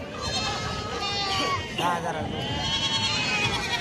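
Goats bleating among a crowd at the Bhigwan weekly livestock market, several wavering calls rising over steady market chatter and background noise, fairly close, with people talking throughout.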